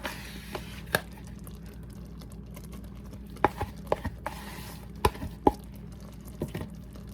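Peanut butter goes into a pot of no-bake cookie mixture on a switched-off stove: a few soft, wet plops and spoon clicks scattered over a quiet kitchen hum, with no one talking.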